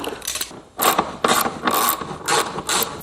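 Ratchet wrench loosening the few bolts holding the front of a car during an overheating check, sounding as five or six quick bursts of rapid clicking, close and fairly loud, with short pauses between them.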